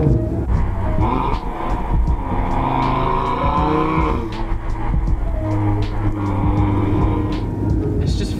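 A 2018 Audi RS3's engine roars and climbs in pitch after a downshift at about 50, loud and close, with steady road noise underneath.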